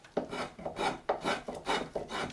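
A coarsely set hand carving tool pulls shavings from a walnut branch being shaped into a ladle, making about five close, rhythmic rasping strokes.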